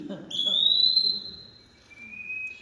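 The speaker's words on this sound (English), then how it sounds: "So he's actually called an eastern wood pewee." An eastern wood pewee calls in a state park: a slurred, rising whistle held for about a second, then a second thinner, level whistled note, clear and moderately close over faint background noise.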